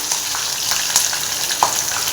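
Green chillies and curry leaves sizzle steadily in hot oil for a lemon rice tempering, a dense crackling hiss with a few sharper pops, close and alone with no talking.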